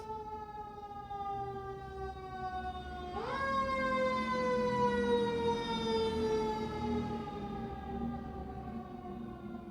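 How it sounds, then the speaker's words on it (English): An emergency siren passes a house, a loud steady wail that shifts sharply in pitch midway as the vehicle goes by, then slowly fades, with a low rumble beneath. "sirens are coming by the house"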